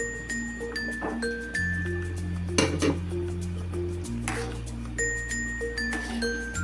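A spoon scrapes and stirs thick haleem in a pot, giving intermittent metallic scraping bursts over a constant electrical hum from a nearby appliance.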